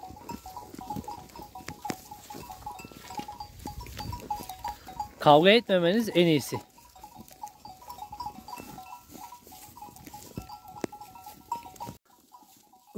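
Sheep in a field let out a single loud, wavering bleat lasting about a second, standing out from a quiet background with faint chatter, a steady ringing bell-like tone and scattered knocks.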